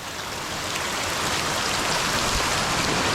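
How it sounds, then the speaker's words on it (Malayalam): Dense, loud roar of heavy rain pouring down continuously, a thick hiss with no breaks and no voices. "നല്ല ശക്തമായ മഴ പെയ്തുകൊണ്ടിരിക്കുകയല്ലേ"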